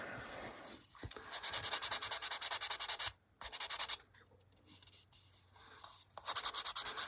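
Sanding a raised seam on a 1/48 HK Models B-25J plastic model kit, heard as bursts of rapid back-and-forth rasping strokes, close and fairly loud, with a brief pause partway and quieter rubbing before the strokes resume.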